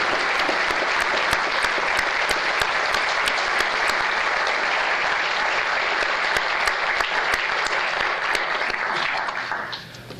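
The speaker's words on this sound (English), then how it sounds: "please join me in a big round of applause for Vice Chancellor" An audience at a university commons groundbreaking ceremony applauds, a thick, continuous wash of many clapping hands at steady strength for about ten seconds before it tapers off at the end.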